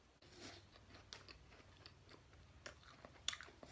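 Someone chews a green tea Kit Kat up close, the quiet crisp crunches and bites of the wafer coming in an uneven rhythm with no talk.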